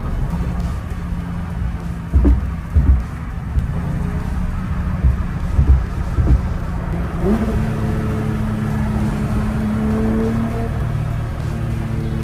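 A BMW Z4's engine droning steadily from inside the car as it accelerates and shifts up through the gears, with a few clunks and wind noise throughout.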